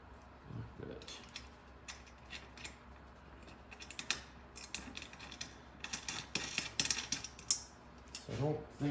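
A wrench tightens a lock nut onto a bolt with a washer while installing a rear seat kit on an EZGO golf cart, giving a run of close, sharp metallic clicks and light clinks, with a low voice at times.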